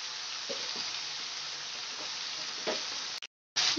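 Ground spices and chopped green chilli sizzle loudly in hot oil in a pan for muri ghonto, a steady crackling fry with soft stirring scrapes, cutting out abruptly near the end before resuming.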